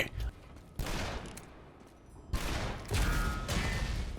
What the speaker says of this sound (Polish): O, oh, yeah, fajerwerki. Wow! Explosions, explosions, explosions!